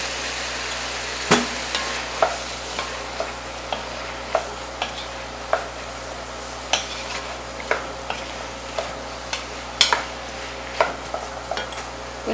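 Spoon stirring flour into a pot of Mexican cheese soup (caldo de queso), sharp clinks and scrapes in an uneven rhythm over a low simmering hiss, with no voices.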